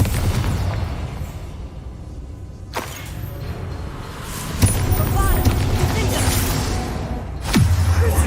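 Confringo fire spell explosions in Hogwarts Legacy, a few sharp booming blasts over a constant roar of battle noise, with a heavier rumbling burst toward the middle and another near the end.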